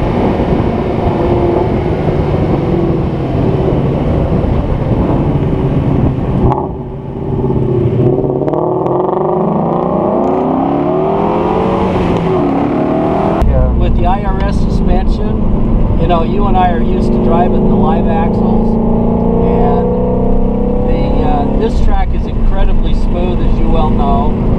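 Cars accelerate and rev on a race track, engines rising and falling in pitch as they change gear, loud and close, with a person talking over parts of it.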